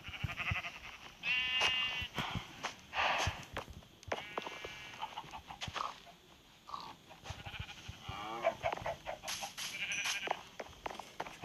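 Sheep in a survival video game on round planets bleat repeatedly, with several wavering calls overlapping and scattered through the stretch. Clicks and footsteps can be heard in the background.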